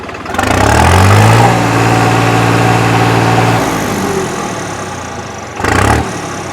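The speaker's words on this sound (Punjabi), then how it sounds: "ਇਹ ਹੈਗੀ ਜਮਾ origignal ਟਰੈਕਟਰ ਦੀ ਆਵਾਜ਼" A New Holland 3630 4x4 tractor engine, stock and unmodified, runs loud and close. It revs up at the start, settles into a steady mid-pitched drone, eases off, then blips briefly near the end.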